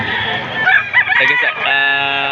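A rooster crows loudly and close at a poultry market in Padre Garcia, Batangas, one long drawn-out call with a rising and falling shape.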